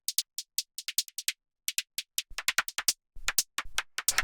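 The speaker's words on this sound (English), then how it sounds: "The way you get this is you get white noise, and it's just a really short envelope on there." Synthesized white-noise hits with a very short envelope and a bandpass filter, playing crisp, clicky percussive ticks in a fast steady pattern in a trance production, later joined by lower thumps.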